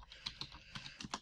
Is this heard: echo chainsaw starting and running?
no